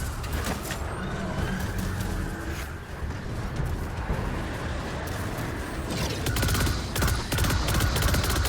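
Sustained gunfire in the shooter game Destiny 2, a dense continuous barrage of rapid shots layered over rumbling low explosions, loud and steady throughout with bursts of sharper repeated cracks near the end.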